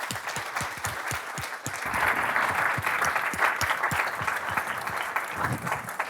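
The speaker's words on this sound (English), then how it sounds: "If we could just give them a round of applause," An audience applauds the panellists at an insurance underwriting discussion event, a steady round of clapping that holds fairly loud and even for about six seconds, with no voices over it.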